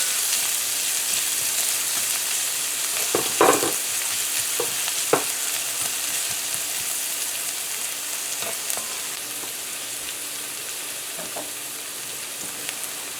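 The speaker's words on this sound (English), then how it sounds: "So now we're gonna add our scallions here. And our pepper, which is optional." Scallions and pepper sizzle steadily in a hot pan for fried corned mutton, a constant bright hiss close by, with a few sharp clinks and stirring scrapes breaking through.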